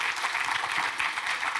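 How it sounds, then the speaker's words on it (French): Conference audience applauding the speakers at the end of a session on biodiversity and health, a short burst of dense, fairly loud clapping from many hands at once. "On peut les applaudir pour cette session de qualité"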